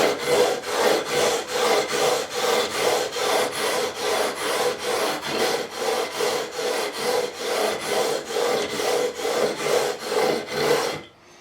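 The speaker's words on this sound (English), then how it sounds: "Finish off with some 320 grit just to remove some of the scratches." Guitar frets sanded with 320 grit sandpaper after leveling, a close, steady series of rhythmic back-and-forth rasping strokes, about two per second, with no talking.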